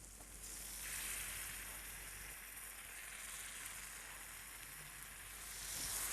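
Gravy poured onto dry mixed vegetables on a hot tawa sets off a soft, continuous sizzle and hiss, faint and even with slight swells, no voices.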